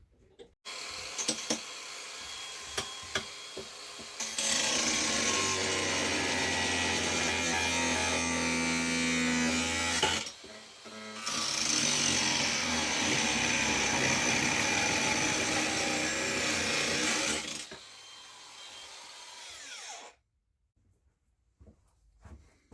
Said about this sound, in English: And then I'll trim it off with the grinder.